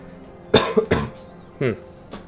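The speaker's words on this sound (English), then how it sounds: "I'm still coughing a little bit" Several close, harsh coughs from one person, two quick ones then a pair of weaker ones, heard during a commentated Empire: Total War Imperial Splendour strategy game session.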